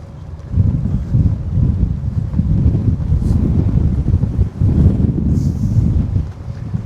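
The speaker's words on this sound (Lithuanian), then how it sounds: "Vėjas nėra mažas." Strong wind roars and buffets steadily for several seconds, low gusty rumbling close to the listener with a brief lull midway.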